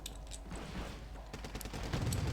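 Gunfire in the video game Wargame Red Dragon, as Spetsnaz GRU infantry shoot at a Mark III tank: scattered sharp cracks and bursts at moderate distance over a low rumbling battlefield backdrop.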